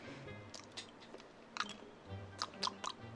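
Someone close by chews a pink, cotton-candy-flavoured Harry Potter every-flavour jelly bean, making soft, irregular wet crunches and squishes that come in small clusters with quiet gaps between them.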